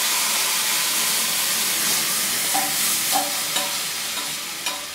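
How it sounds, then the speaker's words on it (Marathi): Taro leaves dropped into a hot tempering of oil with asafoetida give a loud, steady frying sizzle and hiss, with a few soft clinks of stirring near the end and no talk. "आता मी हे फोडणीला घालते."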